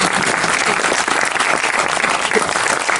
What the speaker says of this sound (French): je pense qu'on peut l'applaudir bien fort pour l'encourager